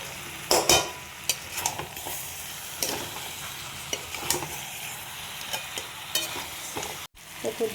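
Capsicum frying in a spice masala for a Bengali aloo dum gives a steady sizzle, broken by sharp scrapes and taps of a spatula on the pan and a brief cut near the end, with no voices.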